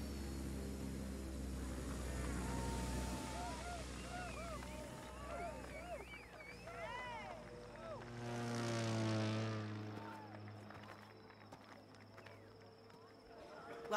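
Propeller plane flying in the racing game The Crew 2, a steady droning engine hum with shifting pitch that swells and fades, continuous and fairly close, with a voice talking over part of it.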